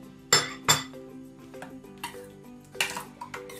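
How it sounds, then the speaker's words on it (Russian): Liver and beaten egg being stirred in a bowl, heard as a few distinct clinks and scrapes of a utensil against the dish, scattered and fairly close, with quiet gaps between them. "перемешиваю печенку."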